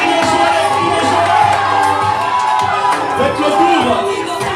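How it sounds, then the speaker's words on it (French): Wedding guests at a civil marriage ceremony cheering, whooping and shouting with joy, a loud continuous crowd roar with overlapping voices and excited cries. "Les cris de joie, les cris de joie."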